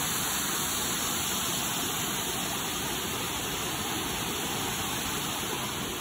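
A waterfall roars in steady broadband rush throughout, close and continuous, with no voices over it.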